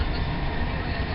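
A fast train, on a 2013 journey from Manchester to Budapest, rumbles steadily on its rails at high speed, a continuous low roar with faint rhythmic wheel texture and no pauses.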